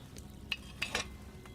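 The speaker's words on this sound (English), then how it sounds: "Hear that bubbling? It's boiling." Cauldron of wine boiling over a flame in Kingdom Come Deliverance 2, faint bubbling with a few soft pops and sizzles over a quiet low hum.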